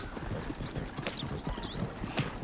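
Horse hooves clip-clop at an uneven walking pace as a horse draws an all-terrain carriage with solid axles and double-spring suspension, the steps faint against a soft outdoor background.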